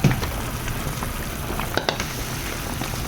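Mushrooms fry in a pan with a close, constant crackling sizzle, scattered sharper pops breaking through the dense hiss, and no voice.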